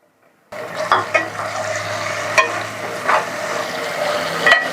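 Masala with chopped tomatoes fries in a pan for palak dal, a steady sizzle starting abruptly after a brief silence, punctuated by several scraping stirs and light clanks of the spoon against the metal.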